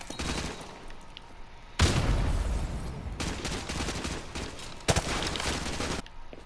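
Loud bursts of automatic gunfire in the shooter game Call of Duty Modern Warfare 2 Remastered, several sustained volleys with sharp cracks and short pauses between them.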